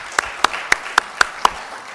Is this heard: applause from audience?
yes